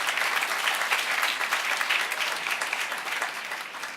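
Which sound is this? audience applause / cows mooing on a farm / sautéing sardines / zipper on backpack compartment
audience applause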